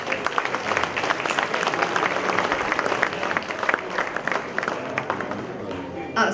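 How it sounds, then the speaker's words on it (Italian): An audience at a national concert band competition in Atessa, Italy welcomes a band with warm applause, a dense sustained clapping that holds steady and then thins slightly toward the end. "Adesso penso che sia il caso di accoglierlo con un caloroso applauso"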